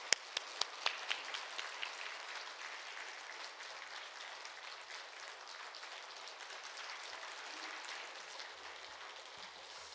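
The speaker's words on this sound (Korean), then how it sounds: "우리 귀하신 목사님 하나님께서 이번 보내주셨는데 우리 박수로 모시도록 하겠습니다." A church congregation at a Wednesday evening service applauds to welcome a pastor, opening with a few sharp, close individual claps before settling into soft, steady, rain-like clapping from the whole room.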